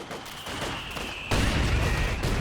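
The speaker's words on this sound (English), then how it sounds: "Oh man, 2 mortar shells" Mortar shells explode in Company of Heroes 2 during a 2v2 match, giving a dense burst of rumbling blasts that grows louder and heavier midway through.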